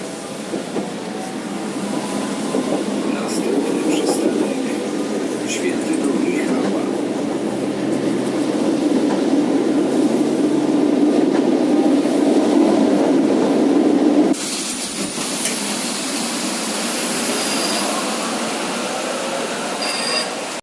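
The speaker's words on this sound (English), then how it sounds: "And now go on another 1970s tram." Riding aboard a 1970s tram in Poznan: a steady rolling rumble with wheel noise and a rising electric motor whine, then an abrupt shift to a quieter interior hum with faint clicks as the tram slows.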